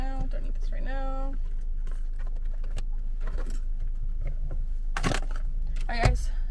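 Keys jangling while a bag is packed, a few bright metallic clinks and rattles, the loudest near the end, with someone talking over them.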